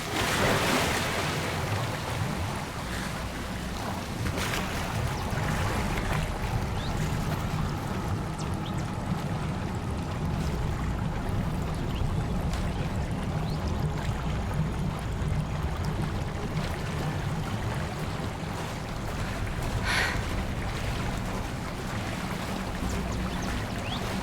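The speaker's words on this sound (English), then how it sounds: "Look, where the water's bubbling." Water bubbling and churning in Hogwarts Legacy, a steady, moderately loud wash of gurgling and surf-like noise lasting throughout, with no talk over it.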